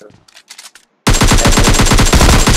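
Sustained rapid automatic fire from an M4 rifle in the mobile battle-royale game PUBG Lite, loud and dense for well over a second, following a short stretch of quiet speech-like sounds.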